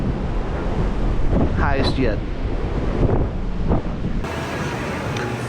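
Gale-force wind and heavy seas batter a cruise ship off Norway, a constant broadband roar of wind buffeting the microphone with surging wave wash underneath, while a person speaks briefly over the din.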